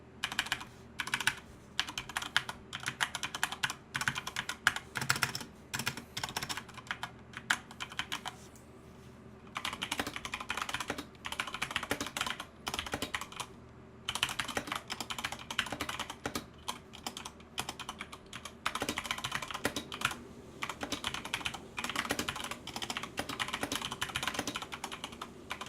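Fast, continuous typing on a Corsair K70 Mk2 Special Edition mechanical keyboard, close-up clicky keystrokes in rapid bursts with a few short pauses, no voices.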